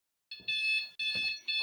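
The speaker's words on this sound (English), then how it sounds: "Why is my alarm on, guys?" A home alarm sounds in a quiet room with three piercing electronic tones, each about half a second long and separated by brief gaps, loud and close with nothing else heard.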